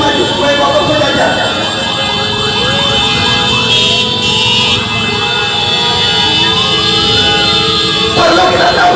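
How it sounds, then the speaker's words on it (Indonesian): Many vehicle horns blare in sustained, overlapping tones at a street demonstration heading to the presidential palace in Indonesia, loud and continuous with people talking over them throughout. "Bunyikan klaksonya semua."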